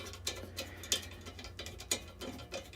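A hand ratchet runs bolts down in the field, a quiet series of light rapid clicks and ticks in short bursts over a low steady hum.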